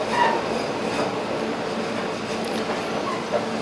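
Steady low rumble and faint rail noise of a Japanese local train slowing to a halt at Minami-Wakkanai station, heard from inside the car with no voices.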